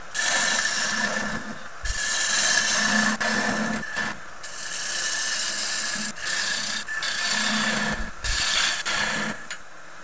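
A woodturning lathe cuts into a wooden bowl blank for a turned and painted bowl, giving a steady close scraping rasp with a thin whine, broken by short pauses as the tool lifts off and bites again.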